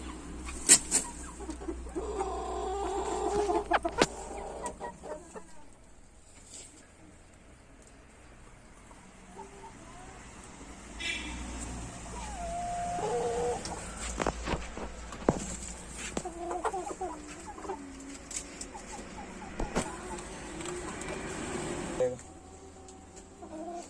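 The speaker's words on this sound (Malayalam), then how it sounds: "അപ്പൊ ഇതൊക്കെയാണ് എന്റെ കോഴികൾ ഇവിടെ ഇപ്പൊ ഉള്ളത്" A backyard poultry flock of twelve hens and eighteen roosters clucking and calling intermittently, several birds close by with scattered sharp calls over a quiet background.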